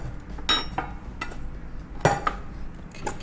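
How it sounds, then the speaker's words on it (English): Chopped carrots, onion and cucumber are stirred into a bowl of potato salad made with Japanese mayo and American potatoes, giving a few sharp clinks of utensil on dish over soft scraping. "mix vegetable into the potato."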